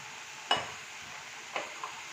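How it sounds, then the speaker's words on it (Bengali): Chicken burger filling being mixed with spices in a pan, heard as a few brief, soft scraping strokes spread apart over a quiet background. "একটু মশলার সাথে ভালো করে মিশিয়ে দিচ্ছি।"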